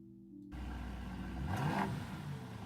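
A car engine revs as a recording is played back through a speaker, starting abruptly after a brief quiet moment and building to a louder swelling rev near the middle before holding steady, with no voices over it.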